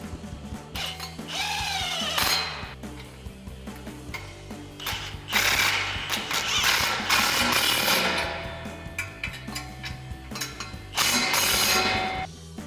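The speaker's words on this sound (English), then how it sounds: "now we'll take a 14mm socket and wrench to tighten this down." Ratchet wrench with a 14mm socket tightening a bolt on a RAM 1500 dual exhaust install, clicking in quick, steady bursts close up, with short pauses between runs.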